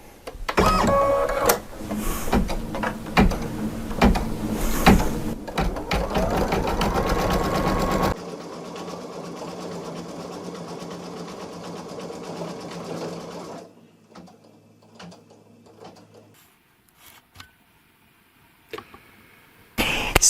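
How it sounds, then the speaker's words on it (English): An embroidery sewing machine stitches a patch onto a hat with a fast, steady mechanical chatter up close. It then shifts to a quieter hum, falls nearly silent, and ends with a few scattered clicks and knocks. "We're going to sew the patch onto the hat."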